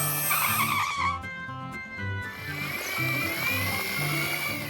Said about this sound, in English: The little cars are driving through the tunnel.